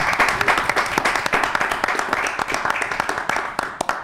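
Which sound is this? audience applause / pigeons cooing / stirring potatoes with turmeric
audience applause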